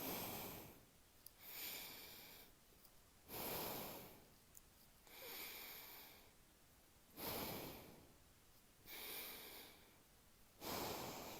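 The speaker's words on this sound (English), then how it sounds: "So now we're going to breathe in on the right," Slow alternate nostril breathing, each long soft inhale and exhale through one nostril rising and fading in a steady rhythm of about six breaths, close and quiet with no talking.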